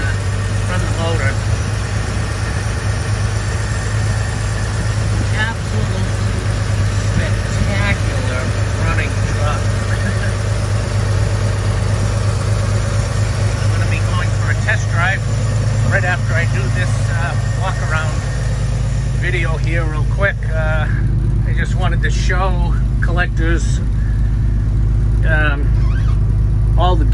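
A 1955 Chevrolet five-window pickup engine idles steadily from about six inches away, a constant low rumble throughout, with someone talking over it at times.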